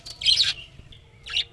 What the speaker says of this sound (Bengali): পাখিগুলো খাওয়ার জন্য করেছে এখন।